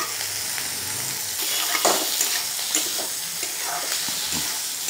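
Chopped tomato goes into a frying pan of Manchurian mix with cabbage, carrot and green chilli, bringing a continuous close sizzle and several spatula stirs and scrapes, with no talking.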